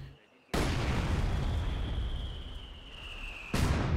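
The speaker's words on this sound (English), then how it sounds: "Heavy mortar for CieZ" Heavy mortar shells exploding in Company of Heroes 2, a sustained roaring blast burst that starts abruptly, rumbles on for about three seconds, then a second loud impact hits near the end.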